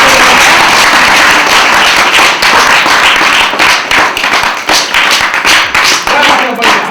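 Loud, close hand clapping in a rough, quick rhythm during a Chhattisgarhi comedy drama scene, with sharp individual claps that run continuously for several seconds.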